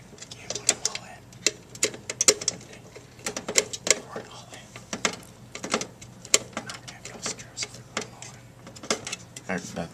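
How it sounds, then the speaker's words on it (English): Screws being driven into a PC case during a computer build, heard as a string of sharp clicks and ratcheting ticks at close range with irregular rhythm, under occasional speech and background hum. "Screw that in."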